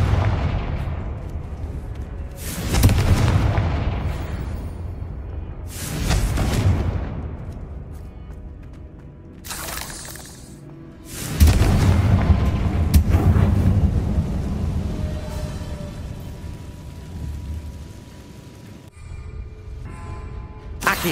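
Fiery Confringo spell blasts in Hogwarts Legacy go off as a series of heavy booming explosions, each rumbling and decaying before the next, with game effects and swooshes between them.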